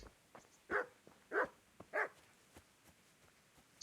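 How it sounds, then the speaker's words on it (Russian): Dog barking in the video game Kingdom Come: Deliverance, three fairly quiet, evenly spaced woofs with softer footsteps and small game noises in between. "Привет, собака."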